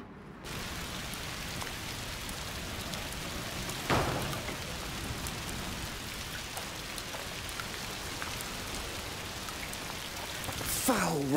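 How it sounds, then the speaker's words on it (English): Steady rainfall in the video game A Plague Tale: Requiem, a dense continuous hiss of drops with a few louder splashes and a brief rumble, with character voices near the end. "Foul rain."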